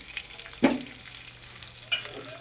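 A spoon stirs pulusu upma in a frying pan over a low, steady sizzle, with two distinct scraping strokes about a second apart, close up.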